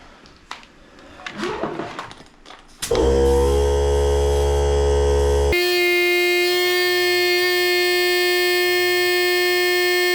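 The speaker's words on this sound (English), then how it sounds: "So for that one, I'm going to use my air compressor." An electric air compressor runs steadily while inflating a nearly flat front tyre on a Windone E2 eBike, a loud constant motor hum and buzz that starts abruptly after a few seconds of quieter handling noise and continues to the end.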